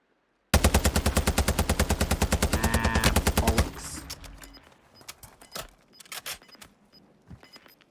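Rapid automatic gunfire in Warzone 2, a dense burst of evenly spaced loud shots lasting about three seconds, followed by scattered quieter shots and impacts trailing off.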